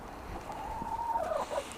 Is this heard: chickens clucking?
yes